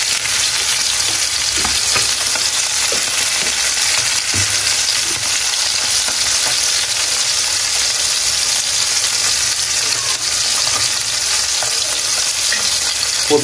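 Koi fish frying crisp in hot oil, giving a steady, loud sizzle that holds without a break throughout, with faint stirring clinks now and then.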